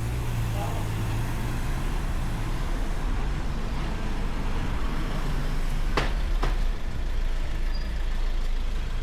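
Cars and trucks move through a street in Kato Paphos with a steady roadway rumble. Two sharp, brief hissing bursts, like air brakes, cut through around the middle, and faint voices sit in the background.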